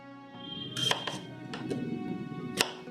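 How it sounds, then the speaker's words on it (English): A knife chopping an onion on a cutting board, a few sharp, close knocks spaced irregularly, with a soft scraping rustle between strokes. "Let's cut the onion first."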